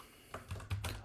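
Typing on a computer keyboard during a pandas data-analysis session: a short, quiet burst of a few clustered key clacks against a hushed room, with no talking.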